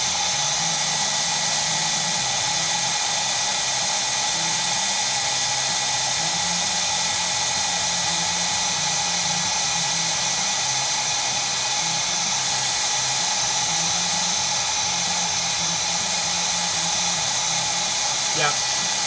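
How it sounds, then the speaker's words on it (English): A steady, droning motor whir runs continuously throughout, broadband and constant, like a hair dryer running nearby with no breaks. "make the new microphone not pick up the hair dryer"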